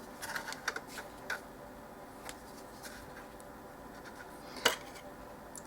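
A knife cutting and scoring vintage multiplication cards, heard as a few soft, close clicks and scrapes against a quiet background, with one sharper tap later on.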